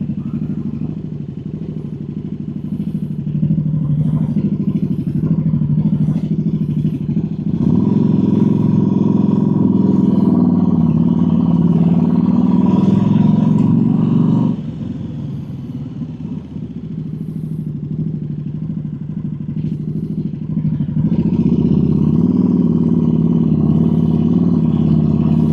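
KTM RC8 V-twin motorcycle engine droning steadily while riding, with a louder, harder-pulling stretch in the middle and again near the end, continuous and close throughout with no talking.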